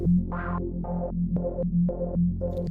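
A Serum synthesizer square tone pulses on and off in a steady rhythm under square LFO modulation, its upper harmonics switching abruptly between two states over a constant low drone.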